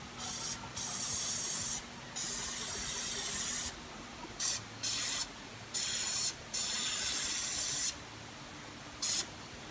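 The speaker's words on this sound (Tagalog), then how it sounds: "Gagamitan ko yan ng Seal Spray Instant Waterproofing." An aerosol can of Seal Spray instant waterproofing sealant sprays in repeated hissing bursts of a second or two, loud and close, with brief gaps between each spray.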